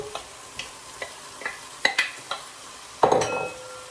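A spoon works through empanada filling of sultanas, apple and mushrooms in a pan, giving a run of light scraping taps followed by a louder clatter near the end, close and with no voices.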